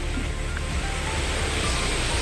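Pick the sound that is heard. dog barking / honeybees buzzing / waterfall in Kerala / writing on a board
waterfall in Kerala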